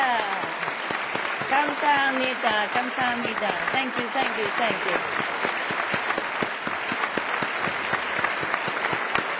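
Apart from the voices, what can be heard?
audience applause at a conference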